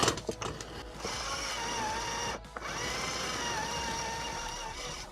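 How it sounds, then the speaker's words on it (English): The electric motor of a kids ATV scooter runs with a steady whirring whine, close and fairly loud, dipping briefly once before resuming under load, with a few clicks at the start. "Even if I put some load on the motor, it's still going."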